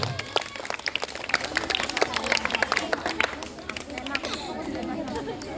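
A quiz-competition audience claps at a Ramadan school contest, the dense steady clapping mixed with crowd chatter and voices throughout, close and continuous.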